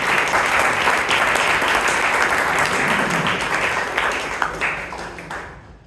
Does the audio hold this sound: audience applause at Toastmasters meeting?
yes